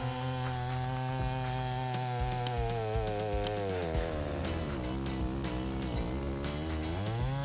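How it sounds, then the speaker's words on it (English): A Stihl 090 chainsaw cuts through oak with a loud, continuous, buzzing engine drone whose pitch sags and rises as the chain bites into the wood, close and steady throughout. "The Style 90 chainsaw can handle oak with precision and great prestige in a short amount"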